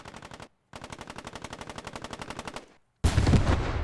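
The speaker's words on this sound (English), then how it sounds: "You can hear the MG42s now trying to suppress Kirk." Rapid MG42 machine gun bursts in the video game Post Scriptum: a short burst, a pause, then a long steady rattling string of shots, followed by a loud broad blast of nearby gunfire or explosion.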